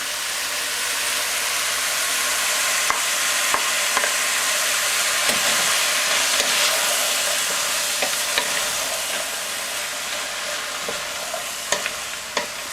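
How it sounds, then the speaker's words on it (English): Chopped onions cook with green beans in a pot for a lubia stew, giving a constant close sizzle with scattered clicks and scrapes from stirring; no one speaks. "The onions are going to cook with the beans until they're a little bit transparent."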